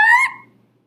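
A voice imitates car tires screeching around a corner too fast: one short, high, tonal squeal of under half a second that fades quickly, close and alone.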